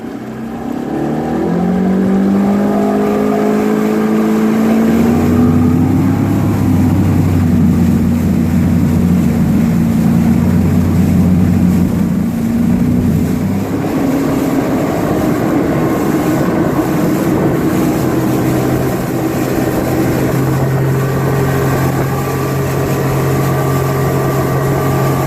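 A boat motor starts at idle, then climbs in pitch as it accelerates to high speed and settles into a loud, steady roar alongside water rush.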